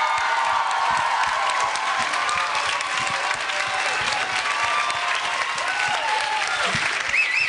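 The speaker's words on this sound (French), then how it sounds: "Si on gardait notre dernier souffle d'applaudissements pour le déplacement massif de tous ces gens-là" Sustained applause from a large crowd thanking attendees at the close of a vocational training centre meeting, steady dense clapping with scattered cheers and whoops, loud and continuous throughout.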